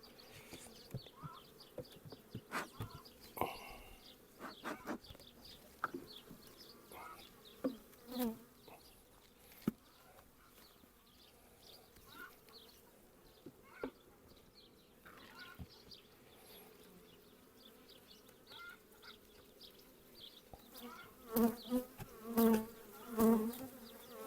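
Honey bees buzz around an apiary during a hive inspection, with individual bees droning past close up in uneven passes and a louder cluster of buzzing near the end, alongside faint clicks and handling noises.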